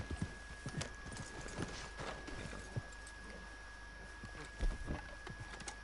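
Horse hooves clop in an uneven rhythm in the video game Red Dead Redemption 2, with a heavier thump near the end, over a faint constant tone and low rumble.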